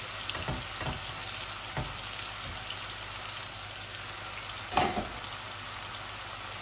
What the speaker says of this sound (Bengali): এই যে পেঁয়াজটা ভাজা ভাজা হোক।